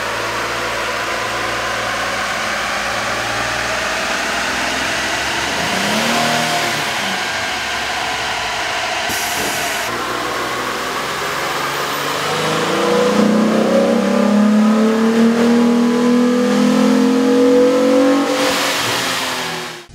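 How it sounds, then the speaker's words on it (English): A Jeep Wrangler 3.8-liter engine fitted with a K&N air intake idles on a dyno, then revs up, its loud drone rising in pitch over the last several seconds before cutting off abruptly. "With the air intake installed, we ran the vehicle on the dyno to test the sound comparison versus the stock intake."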